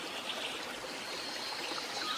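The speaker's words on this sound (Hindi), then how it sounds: "झरनों की आवाज़, पशुओं की आवाज़" Waterfalls in a forest heard as a soft, steady trickling and rushing of water, faint and continuous with no other sounds or voices.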